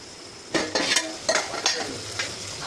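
Food frying in a pan is stirred with a utensil, soft continuous sizzle broken by several sharp scraping and clinking strokes close by.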